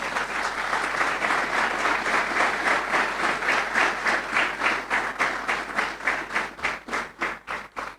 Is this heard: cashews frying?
no